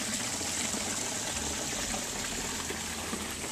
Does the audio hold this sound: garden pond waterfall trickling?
yes